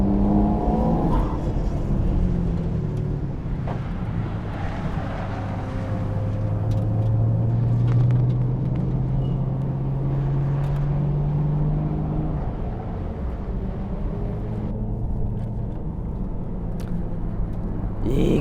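Mine's-tuned Nissan Skyline R33 driving, a steady engine drone with rising revs under the cabin, loud and close, while people talk over it.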